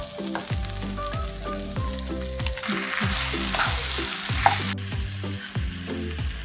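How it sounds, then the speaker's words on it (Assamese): Chicken frying in a pot with onion and garlic for a pulao: a steady sizzle with repeated scraping stir strokes of the spoon, close and fairly loud, and no voices. "এতিয়া পিঁয়াজ আৰু নহৰুখিনি ভালকৈ ভাজি হোৱাৰ পিছত মই এতিয়া এইখিনি চিকেনখিনি দি দিম"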